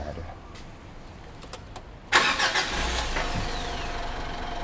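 A Mitsubishi Pajero Sport with a conventional key ignition starts up: a sudden loud burst of cranking and firing, then a steady idle rumble close by, after a quiet stretch with faint background noise.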